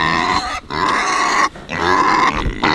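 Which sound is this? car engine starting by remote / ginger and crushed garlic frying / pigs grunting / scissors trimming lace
pigs grunting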